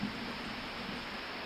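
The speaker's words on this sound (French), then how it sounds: "Soudain, un orage éclate. La pluie nourrit la terre" Rain from a thunderstorm hisses steadily, with a dense wash of drops on surfaces and no distinct thunderclap.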